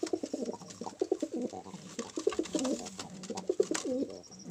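Pigeons in a coop coo in repeated soft, throaty bursts, close and steady, with several birds overlapping, over faint background noise.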